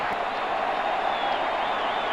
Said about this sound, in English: Crowd getting behind Backe on his 3-2 coming to Woody Williams